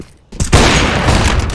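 A flashbang grenade going off in Counter-Strike: Global Offensive, a loud sudden blast after a brief quiet, followed by a sustained harsh roar of noise.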